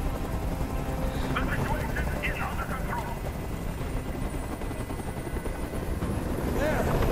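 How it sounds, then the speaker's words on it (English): A helicopter's rotor thrums steadily in the background of the video game Detroit: Become Human while voices speak intermittently over it. "Tell that helicopter to get out of here."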